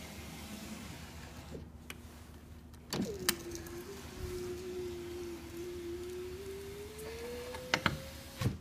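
The power window regulator of a Nissan Murano Z51 runs in one continuous motorized whir lasting about five seconds, closing with a soft thunk. Quiet, close and isolated, with a few faint clicks around it.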